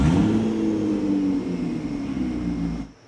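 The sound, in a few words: car engine starting with catalytic converter stolen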